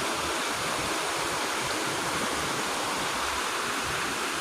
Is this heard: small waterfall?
yes